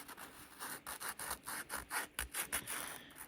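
An eggshell paint swatch on black paper scrubbed by hand, a quiet, close series of short rhythmic rubbing and scraping strokes in quick succession, with no talking.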